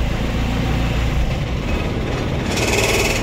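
An Isuzu 4HL1 engine with a transmission problem shudders as a gear is engaged, giving a steady, loud, rough drone that continues throughout without pause.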